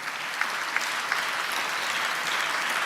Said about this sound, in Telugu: చప్పట్లు కొడుతూ ప్రభు వారికి స్తోత్రాలు చెప్దాం